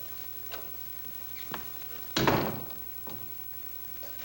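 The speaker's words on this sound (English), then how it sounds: "Shut the door." An interior door shuts with a solid thump partway through, its broad burst standing out above a quiet room; a few faint knocks and shuffles come before it, and no one talks during the sound.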